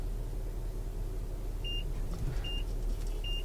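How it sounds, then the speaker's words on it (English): A 2016 Mazda CX-9 reversing sensor gives three short, evenly spaced high beeps while the car backs up, over a steady low engine and road rumble. "I hope you can pick up the beep."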